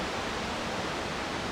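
Roaring waterfall at the base of a falls on Mount Lassen, heard as a dense, steady broadband rush of falling water with no break, loud and continuous throughout, with no voices.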